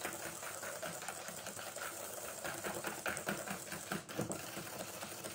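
An electric mixer whirs steadily while whisking biscuit de Savoie sponge batter until it turns white and creamy, a continuous close buzzing hum with slight rhythmic variation and no talk.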